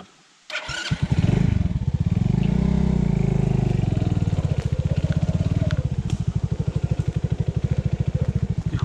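Enduro motorcycle on an offroad swamp trail starts up and rumbles at low revs, pulsing steadily as it creeps slowly forward, close and loud with no talking.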